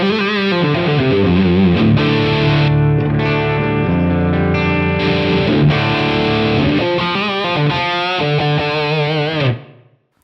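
Electric guitar played through a Line 6 Pillars overdrive effect on a Helix or HX Stomp, strummed chords ringing thick and distorted, loud and sustained, with no talking over it.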